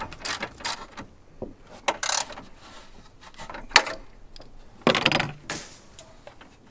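A bolt is tightened into a hood strut bracket on a 2021 Ford Bronco, with irregular metallic clicks, ratcheting and scraping bursts close by, separated by short quiet gaps and no talking.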